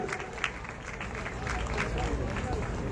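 An audience applauds at an art competition award ceremony for figurative landscape painting, a busy patter of clapping mixed with crowd murmur and talk, steady across the whole stretch.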